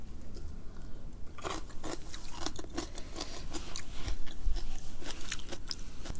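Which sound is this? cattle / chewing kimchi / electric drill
chewing kimchi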